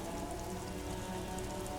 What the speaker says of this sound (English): So I wonder if that's because it's raining.